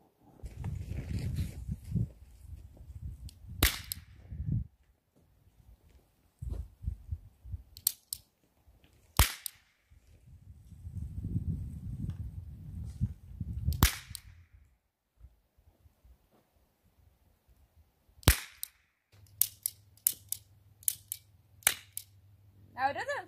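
A cheap dollar store toy cap gun fires outdoors, a handful of sharp isolated cracks spaced irregularly across the clip, some shots failing, with handling noise and rustling between them.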